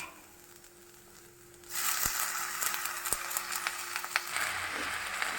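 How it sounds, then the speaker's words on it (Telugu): Spinach dropped into a hot pan of nearly fried onions sets off a sudden loud burst of sizzling that carries on steadily, with small crackles and pops over the hiss. "దగ్గర దగ్గర ఉల్లిపాయలు వేగిపోయి కదా ఇవండి పాలకూర వేసుకుందాం"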